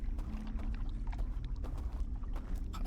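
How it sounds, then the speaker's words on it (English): A boat moving in the Outer Wilds game gives a low, steady rumbling drone with faint watery swishing, continuous and moderately close, with no talk over it. "Oh, that's the boat."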